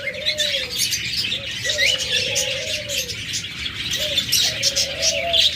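Pet lovebirds, cockatiels and budgerigars kept as pairs chirp and tweet continuously, with several soft cooing calls repeating at steady intervals beneath a dense layer of high twittering, fairly close and moderately loud.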